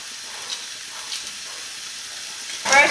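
Garlic sautéing in a pan alongside onions, a soft steady sizzle with faint stirring clicks, ending with a louder burst of sizzle near the close.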